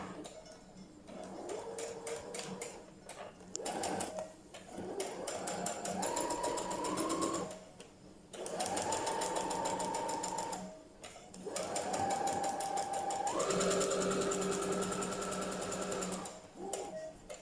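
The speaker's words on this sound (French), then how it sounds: "J'ai mis ma tension de fil à 2 et j'ai pris un fil droit" A sewing machine stitches a three-layer fabric face mask in rapid runs of close, even mechanical clatter, broken by short pauses to turn the fabric.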